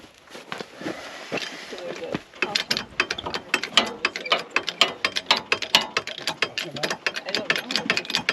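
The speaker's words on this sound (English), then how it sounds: "Throw the parking brake on." A Jeep Wrangler's parking brake lever is pulled on with a dense run of sharp ratcheting clicks, close and prominent, while people talk underneath.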